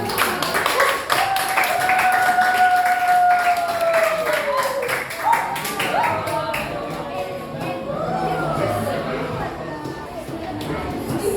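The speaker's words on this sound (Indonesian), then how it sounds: "Untuk kelompok 8 di tepuk tangan yang meriah ya" Classroom applause for a student group, with scattered clapping under an ongoing voice and a long sliding whistle-like tone running over the first seconds.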